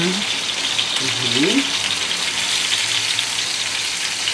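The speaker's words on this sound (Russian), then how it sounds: "Сейчас еще пожарим." Food frying in a pan makes a loud, continuous close sizzle throughout, with a voice briefly heard near the start.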